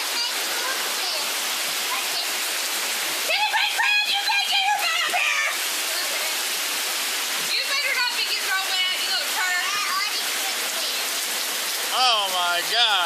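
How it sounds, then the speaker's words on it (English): Heavy rainstorm pouring down on a farm, a dense steady hiss of rain throughout, with birds chirping over it and a person talking briefly. "You ever seen rain like that before?"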